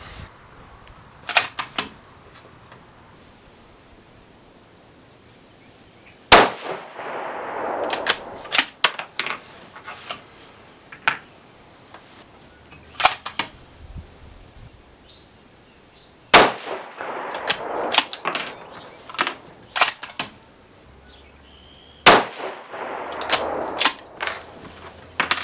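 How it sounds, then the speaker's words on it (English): A 6mm ARC rifle firing 105-grain RDF bullets at the range lets off three loud, sharp shots several seconds apart, each with a ringing decay, with lighter mechanical clicks and clanks of handling between them. "we're gonna shoot the first group here and we're gonna see if we picked good charges"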